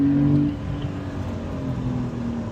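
A Porsche on a race track accelerates with a steady, sustained engine drone and rising hum, close and fairly loud, with no talking.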